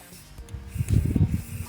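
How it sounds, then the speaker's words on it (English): Rust-Oleum spray paint hissing from an aerosol can in a soft burst that swells after a quiet start, close by, with no talking. "You know that spray paint is my medium of choice."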